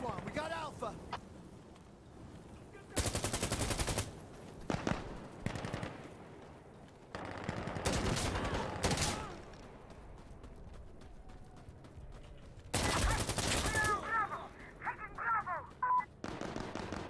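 L85A2 rifle bursts in Insurgency Sandstorm, sharp rapid automatic fire in several short volleys with gaps between, a voice talking under the shooting.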